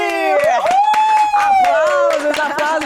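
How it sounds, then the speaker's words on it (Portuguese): Podcast guest Paulo Ganime is applauded with scattered hand claps alongside a loud, sustained vocal cheer, close and lively. "Aplausos para Paulo Gamini."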